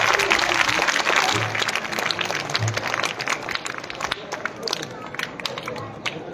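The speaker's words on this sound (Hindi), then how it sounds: "जोरदार तालियों से उनका स्वागत करें" An audience at a school event in Okhla, Delhi claps to welcome a school principal, a loud, dense round of applause that gradually loosens and thins over several seconds, with faint crowd murmur underneath.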